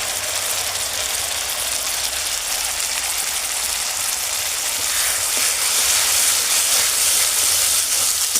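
Tomato and green chili paste sizzles in a pan with fried onions for an egg pepper fry, giving a continuous bright frying hiss, steady and close, with no voices.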